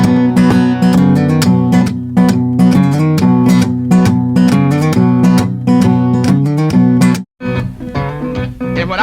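Guitar in open G tuning plays a driving boogie pattern, with a strong right-hand pulse of repeated plucked bass notes and chords, close and loud, briefly pausing near the end before resuming.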